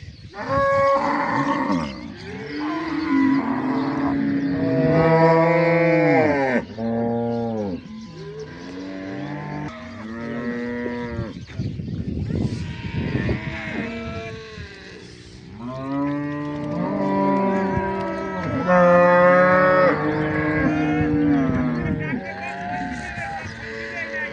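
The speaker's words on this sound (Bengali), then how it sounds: "কত চমৎকার চমৎকার গাভী।" A herd of cows on a farm moos repeatedly, long overlapping low calls from several animals, some close and loud, others farther off, with brief quieter gaps between bursts.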